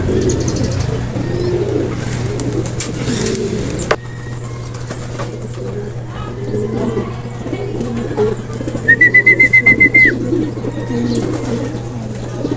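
Outdoor ambience with a low steady hum; a brief rapid series of soft calls from soaked racing pigeons stands out near the end, with faint fluttering and distant traffic.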